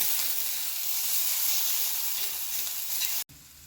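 Onion, garlic and masala with turmeric sizzle steadily while being stirred in a pan, a continuous close frying hiss that cuts off abruptly near the end.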